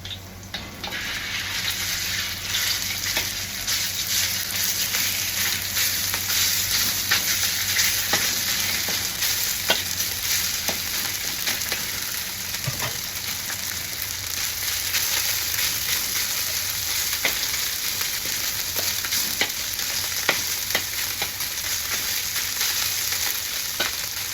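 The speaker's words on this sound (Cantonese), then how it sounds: "落啲雞髀肉落去煎。" Chicken thigh meat sizzles and fries in a hot pan for a home stir-fry, a loud, steady crackling hiss that runs without pause, with scattered sharper pops and no talking.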